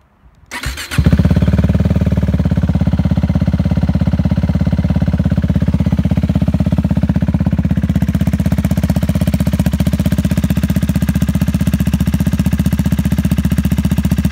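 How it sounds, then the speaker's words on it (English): A 2016 KTM Duke 390 motorcycle starts up and settles into a loud, steady idle with a deep, continuous throb, close to the microphone, with no talking. "That's my 2016 KTM Duke 390."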